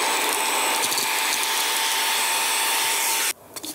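A Fanttik X100 Mix vacuum with blower runs on its lowest setting, a steady whirring motor noise up close that cuts off abruptly near the end.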